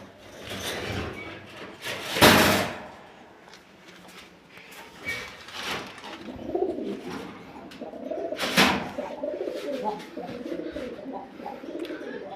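A male and a female pigeon, reunited after four days apart, coo softly and repeatedly at close range, with occasional wing flaps and rubbing sounds in between.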